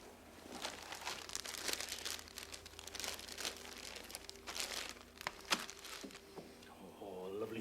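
A plastic bag is rummaged through and crinkled indoors, with a steady run of close, rustling crackles and sharper crunches over several seconds, alone without talk.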